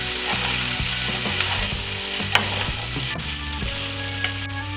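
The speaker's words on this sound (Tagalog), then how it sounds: "Haluin natin para magpantay yung lasa." Sisig frying in a pan sizzles loudly and continuously while a utensil stirs and scrapes through the meat in uneven strokes, with a sharp clack near the middle and no talking.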